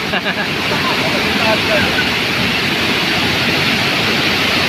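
Water rushes steadily at Pinipisakan Falls in a strong current, a dense, loud, unbroken roar that fills the whole scene.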